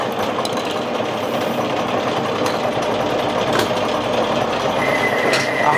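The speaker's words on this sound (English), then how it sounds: "The noise you're going to hear is the change wheels in the back of the lathe." Imperial change wheels in the back of a metal lathe run noisily, a continuous loud gear whine and clatter with a steady mechanical rhythm and no talk.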